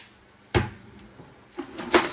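A bathroom cabinet drawer is opened, giving a sharp wooden knock and then a second cluster of sliding, bumping noises a moment later, close by with no talking.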